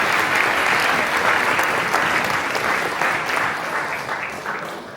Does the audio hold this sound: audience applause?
yes